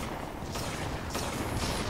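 Cannons boom on an airship in the video game Guns of Icarus Alliance, two or three heavy blasts with rolling noise over a constant loud engine and battle din, no voices.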